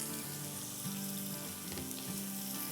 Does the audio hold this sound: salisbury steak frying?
yes